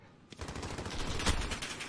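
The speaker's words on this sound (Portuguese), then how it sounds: "Acaba tomando tiro ali pela esquerda." Dense, continuous gunfire crackles through the whole clip, with a sharper, louder burst near the middle, like rapid shooting in a busy Call of Duty Domination match.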